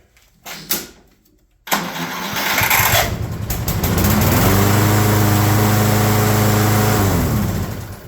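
A Craftsman Platinum lawn mower engine cranks briefly, then catches and starts, settling into a loud, steady close running drone that rises in pitch and holds.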